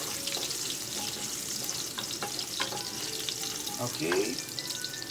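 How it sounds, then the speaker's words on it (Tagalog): Chopped garlic fries in hot cooking oil, giving a steady close crackling sizzle with occasional stirring scrapes, while a voice says a word briefly. "Ito natin uminit ang mantika. Tapos, ilagay natin na ang bawang."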